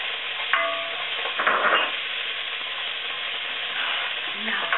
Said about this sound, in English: today's secret ingredient, garlic. Add as much as you like.